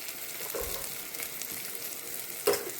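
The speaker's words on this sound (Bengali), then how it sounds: "এখন এই মশলাটা কিছু সময় ভেজে নেব।" Ground turmeric, chili, and coriander-cumin powder fry in a pan with a steady, close sizzle, broken by light stirring and one sharper scrape of utensil near the end.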